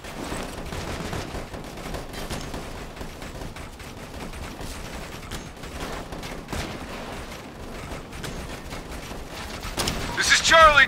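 Gunfire in the video game Operation Flashpoint Red River crackles almost nonstop in rapid shots and bursts, some near and some distant, under voices talking, and grows louder toward the end.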